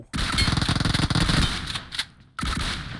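Rapid automatic gunfire in PUBG Mobile rattles loud and close in a sustained burst, pauses briefly with a few scattered shots, then resumes firing.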